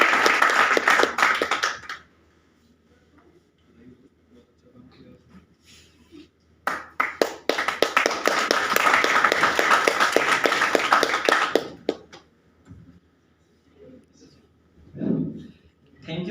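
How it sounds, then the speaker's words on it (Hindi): Applause at an indoor event in Shahdol, Madhya Pradesh, two loud bursts of crowd clapping separated by a quiet gap, the second lasting around five seconds before fading, with brief talk near the end. "ताली होनी चाहिए।"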